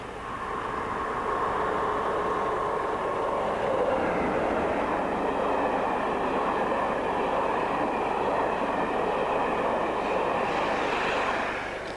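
A Brighton to Edinburgh passenger train rumbles steadily past nearby, a continuous roar of wheels and motors that swells slightly and fades at the end.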